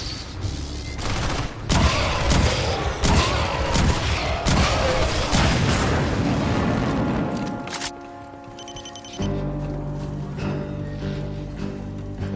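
An automated sentry gun fires in the sci-fi shooter Aliens: Fireteam Elite, with dense, rapid bursts of gunfire and booms for several seconds, followed by quieter mechanical tones and game effects.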